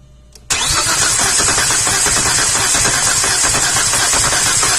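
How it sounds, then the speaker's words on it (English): A 2004 Chevrolet Epica engine cranks over steadily with a compression tester fitted to one cylinder, starting abruptly after a brief quiet moment and churning loudly and continuously to the end without any voices. "then we get my helper to crank the engine"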